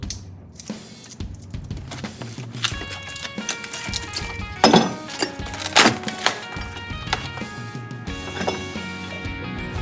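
A RoadMaster suspension package is opened and handled, giving scattered hollow knocks, rustles and a few sharp clattering hits, irregular and fairly close, with no voice.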